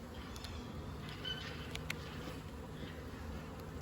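Honey bees in a strong overwintered colony hum with a steady, close buzz, and a few individual insects drone in and out of the dense drone.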